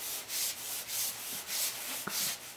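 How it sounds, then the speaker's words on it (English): A hand rubs talcum powder around the inside of a motorcycle tire, making soft, rhythmic swishing strokes of about half a second each, close and fairly quiet, with a faint tap near the end. "kind of rub it around with my hand"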